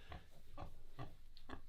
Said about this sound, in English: she gave birth effortlessly to these 9 piglets